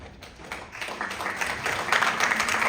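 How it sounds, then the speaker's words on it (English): Children at a sixth-grade spring band concert clap together as a thank-you to their parents, a dense, rising patter of many hands filling the space, growing louder toward the end. "can you give your parents a thank you clap?"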